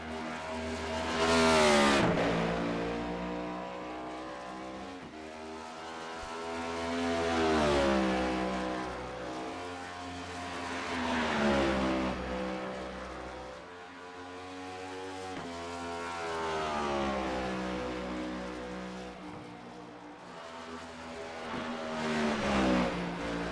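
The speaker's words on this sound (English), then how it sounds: "So first car on the track here," A race car runs a qualifying lap on the Monster Mile oval, its engine rising and falling steadily through repeated accelerations and corners, loud and continuous with no talk over it.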